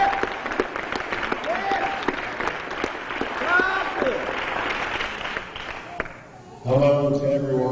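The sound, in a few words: audience applause welcoming a speaker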